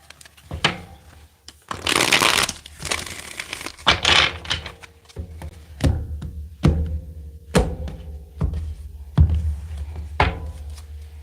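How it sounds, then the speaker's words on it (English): Tarot cards are shuffled in several quick riffling bursts, followed by a series of sharp taps and thumps as the deck is squared and handled up close. "One more shuffle."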